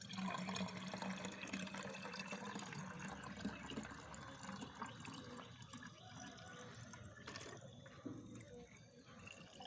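Garlic fertilizer liquid poured into a one-litre container, a steady splashing, gurgling pour running continuously and fairly close, with a brief louder splash near the end.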